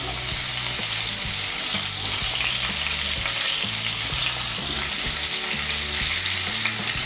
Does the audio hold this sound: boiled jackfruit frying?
yes